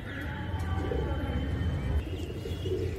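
Pet pigeons kept for sale coo in a low, continuous murmur close by, with faint soft chirps mixed in and a steady background hum.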